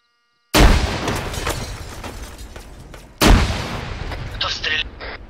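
A self-propelled artillery gun in a tank video game fires twice, each shot a loud, close boom followed by a long decaying rumble.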